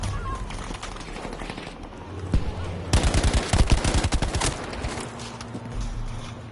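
An STG-44 fully automatic rifle fires in Payday 2, a rapid loud burst of evenly spaced shots lasting about a second and a half, with quieter game sounds before and after.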